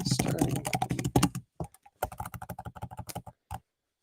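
Fast typing on a computer keyboard, close and clicky, with a dense run of keystrokes followed by sparser bursts and short pauses before it stops.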